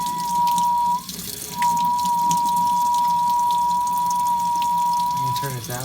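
Tap water runs through a tea filter, making a steady, close, high-pitched hum over the rushing flow. The hum drops out briefly near the start, then holds until the end, when the tone wavers.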